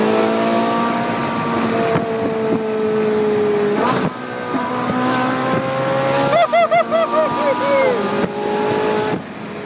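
A Ferrari 458 Italia Spider revs hard at high rpm, its engine note sweeping up and down with sharp gear changes, crackling pops and wavering whine, loud and close, with a voice talking over it.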